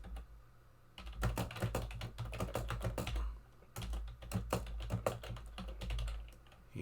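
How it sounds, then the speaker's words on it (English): Rapid clacking of keys on a computer keyboard, in quick uneven bursts with short pauses, close and fairly quiet, no talking. "You hear that typing?"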